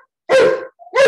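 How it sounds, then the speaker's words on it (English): An anxious dog barks twice in quick succession, loud and close, with a short whine between the barks. "I'm sorry, excuse my dog."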